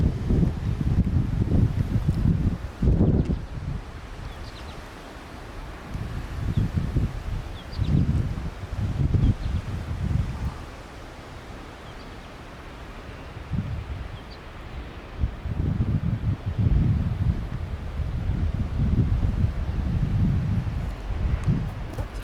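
Strong gusty wind buffets the microphone on an exposed hilltop at L'Anse, roaring in low rumbling surges that rise and fade repeatedly, with faint rustling between gusts and no talking.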